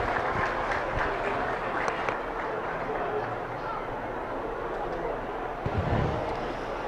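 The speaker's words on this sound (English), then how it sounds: "Let's give them a nice round of applause as they exit the ring." Applause from a crowd in a livestock show ring as 4-H and FFA exhibitors lead their crossbred steers out, a broad, steady wash of clapping mixed with crowd noise, muffled voices and a brief low thump near the end.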